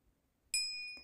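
A single bright notification bell dings once and its clear tone rings on, sustained and alone, after a moment of silence.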